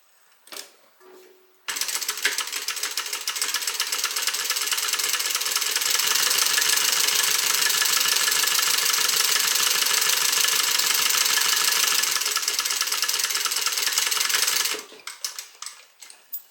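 A sewing machine stitches along the long raw edge of a tote bag, a rapid, even mechanical chatter that runs steadily for about thirteen seconds, with brief handling clicks before and after.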